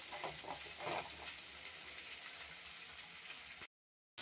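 Onions and curry leaves frying in oil, a faint, steady sizzle with soft crackling bursts early on, ending abruptly in silence.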